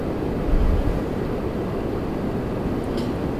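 A Jazz Embraer E175 regional jet arrives at Toronto Pearson, heard as a continuous low rumble of distant jet noise with a slightly heavier swell early on.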